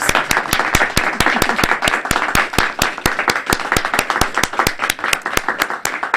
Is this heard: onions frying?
no